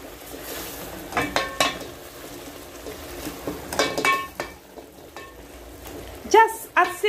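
Green gram stew being stirred in a pot, with a soft bubbling simmer under irregular metallic clinks and scrapes of a spoon against the pot's sides, growing louder toward the end.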